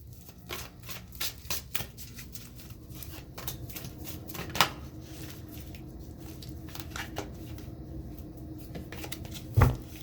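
Soft, repeated riffling and flicking of tarot cards being shuffled, close and fairly quiet, with an occasional sharper tap.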